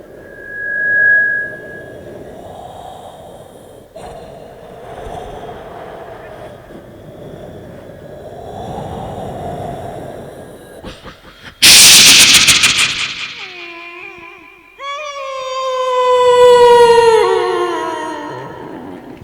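A comedian on stage imitates eerie horror-film ambience: a low, wavering wind-like hum, a sudden loud thunder-crack burst, then rising, wailing howls like crying dogs.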